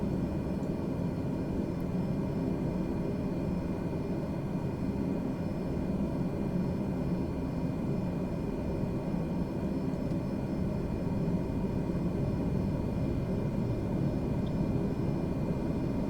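A turboprop aircraft engine in Microsoft Flight Simulator runs steadily at low idle after start, giving a constant, even roar and hum that holds unchanged throughout with no talk.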